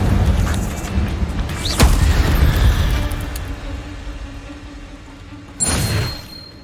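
A fire spell cast in Hogwarts Legacy bursts out with a sharp crack near two seconds and then a low roaring rush, followed later by a second whooshing burst against a continuous game soundscape.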